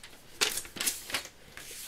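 Cream-beige card paper is cut in short crisp strokes, three or four quick snips with brief papery rustles between them, close and fairly quiet, no voices.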